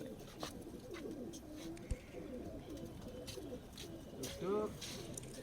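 Soft, low pigeon cooing in Allahabad, several birds murmuring steadily nearby, with people talking over it and a brief sharp knock partway through.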